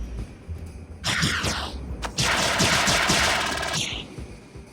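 Ship guns in the Star Citizen space combat game fire rapid automatic bursts at small targets, two long rattling volleys close and loud over a low engine drone.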